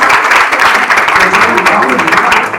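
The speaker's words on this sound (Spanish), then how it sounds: "Te aplaudimos nosotros también." A room of listeners claps together in a brief, loud burst of applause, close and dense, with a voice mixed in toward the end.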